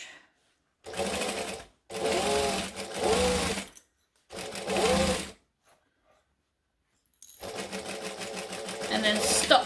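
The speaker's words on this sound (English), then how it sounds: "we're going to stitch that shut" A sewing machine stitches fabric shut in loud, close bursts of rapid mechanical whirring, three short runs separated by silent pauses, then a longer run that builds toward the end.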